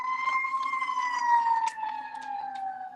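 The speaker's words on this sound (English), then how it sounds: "And with that siren," A loud emergency siren wails steadily, its tone sliding slowly downward across the whole stretch with no talk over it.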